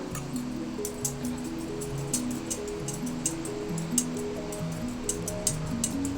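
Cumin, toor dal and chana dal dry roasting in a pan give off light, regular ticks and clinks from stirring, faint under a steady tonal background.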